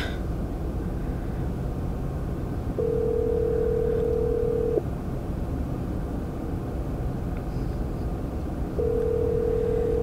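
A telephone ringback tone sounds for an unanswered call, two long steady tones about two seconds each with a long gap between, moderately loud over a constant low background hum.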